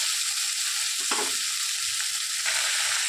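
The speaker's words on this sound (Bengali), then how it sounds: "এবার একটু নাড়াচাড়া দেবো হালকা করে" Modula and small hilsa fish curry sizzles and fries in a pan while being gently stirred, a loud steady crackle with a couple of soft scraping stirs partway through.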